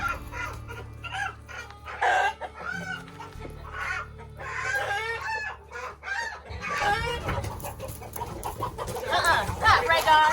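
Chickens clucking and squawking close by in a farmyard with a snake nearby, busy and agitated throughout, while people talk over them.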